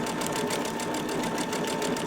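A Babylock or Brother sewing machine stitches slowly with metallic thread on a decorative stitch under loosened tension, giving a steady, continuous close whir with a faint regular needle pulse and no talk.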